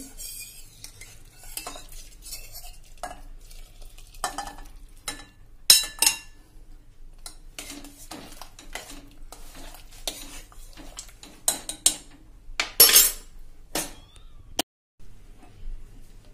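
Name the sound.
stirring in a pot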